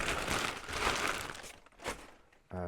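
Close crinkles and rustles in bursts as new luggage is unpacked from a plastic bag, fading toward a pause before a short voice cuts in at the end.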